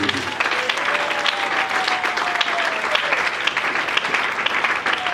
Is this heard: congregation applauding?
yes